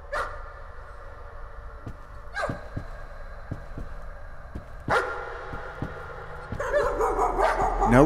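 A dog painting barks in the horror video game Layers of Fear, sharp repeated barks at irregular intervals over a low droning background, with a harsher burst of noise rising at the end.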